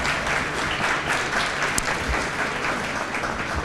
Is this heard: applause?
yes